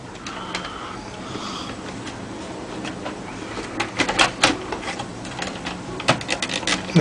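A tape deck mechanism is fitted into a radio case by hand, producing a series of close plastic clicks, taps and scraping knocks that grow denser toward the end.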